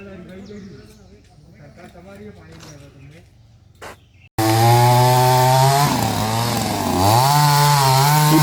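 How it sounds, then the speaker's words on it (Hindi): Saw cutting 25-year-old green trees inside a park, suddenly starting up loud and close after quieter background chatter, a steady buzzing whine with wavering pitch. "उद्यान के भीतर चल रही ये आरी उद्यान के 25 साल पुराने हरे भरे पेड़ों पर चलाई जा रही है।"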